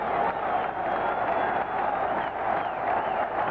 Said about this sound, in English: Oh, listen to this crowd.